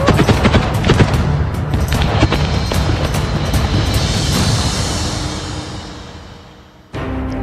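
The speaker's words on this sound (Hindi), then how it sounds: "रूस के वैगनर लड़ाकों ने सीक्रेट लोकेशंस पर छुपे यूक्रेन के सैनिकों को मशीन गन से फायरिंग कर छलनी कर दिया है।" Machine gun fire in the war around Bakhmut, Ukraine: rapid, loud bursts of shots crackling close together, slowly fading before a sharp cut near the end.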